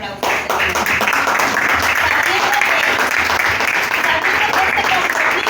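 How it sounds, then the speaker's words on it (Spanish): A congregation gives strong applause at a church service, dense sustained clapping filling the space, with a voice faintly audible beneath it. "Denle un fuerte aplauso"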